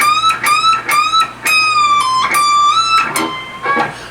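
Electric guitar plays a rock-style lick, with string bends and a slide between high notes, bright repeated phrases with sharp pick attacks and pitch glides, played alone and fairly loud.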